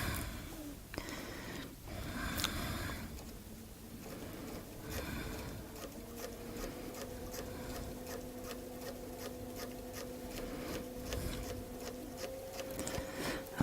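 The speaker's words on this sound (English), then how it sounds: "I'll just do a couple of extra stitches in that edge and be able to cut the threads off" A quilting sewing machine runs along a quilt edge with a steady mechanical whir and fast ticking stitches, preceded by a few clicks and knocks, close by and fairly quiet.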